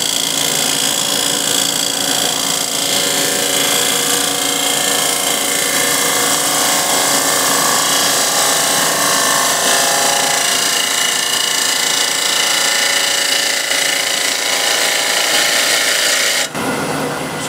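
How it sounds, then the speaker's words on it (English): A 16mm ball gouge cuts steadily into a wooden bowl on a lathe, giving a loud, continuous scraping hiss that runs unbroken for most of the stretch before stopping abruptly near the end. "So just put the fresh edge on the bigger ball gouge and just make a nice steady cut."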